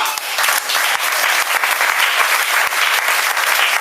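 A church congregation applauding to acclaim their king, dense loud clapping filling the space without a break, close and continuous, with no clear talk.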